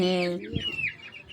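A chicken clucks up close in a short burst of rising and falling calls.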